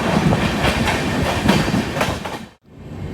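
Saurashtra Mail passenger train pulling into Vapi station on its Okha–Mumbai run, steady loud rumble and clickety-clack of wheels over rail joints, then a brief sudden drop to near silence before the rolling noise returns.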